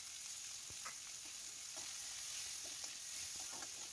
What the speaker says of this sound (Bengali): এর মধ্যে কেটে রাখা পেঁয়াজের টুকরোগুলোকে দিয়ে ভালো করে একটু ভেজে নেব।